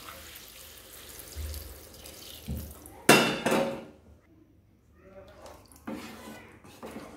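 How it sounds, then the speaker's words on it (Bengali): Water from rinsing a bowl is poured into a pot of cooking potatoes and pointed gourd, giving a short splashing sizzle with clinks of metal cookware before and after it, close by in a quiet kitchen. "এবার আমি দিয়ে দেবো বাটি ধোয়া জল।"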